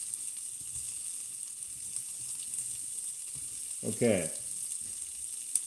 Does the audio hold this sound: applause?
no